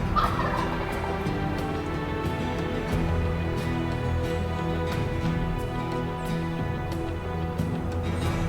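Wild turkeys gobbling and calling outdoors in a steady, overlapping chorus, with sharp clucks scattered throughout.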